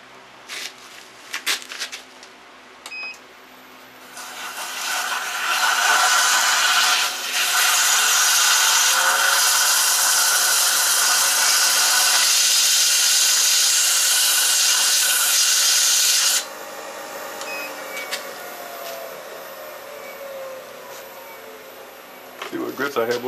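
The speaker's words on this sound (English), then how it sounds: "Then just sand it." A wooden yoyo is sanded as it spins on a Record Power Harald lathe, giving a loud, steady rushing rub for about twelve seconds. Quieter workshop handling noises come before and after.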